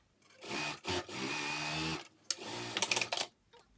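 A sewing machine stitches along the seam of a fleece hoodie, two short runs of fast, whirring mechanical stitching close by, separated by brief pauses and ending in a few quick bursts.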